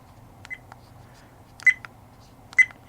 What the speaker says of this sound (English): I don't really like that beep sound, especially in the car